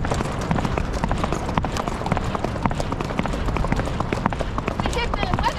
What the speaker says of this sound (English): It's the world's most perfect footing for a horse.